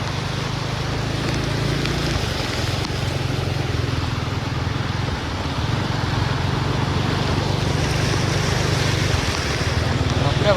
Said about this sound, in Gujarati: પાણી તો જો તમે ભાઈ પાણી એટલે બહુ પાણી છે